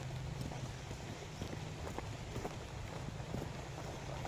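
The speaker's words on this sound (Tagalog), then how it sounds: "malakas ang ulan na to, ulan na." Steady rain falls hard, a dense hiss with scattered drops pattering on surfaces nearby, fairly quiet overall.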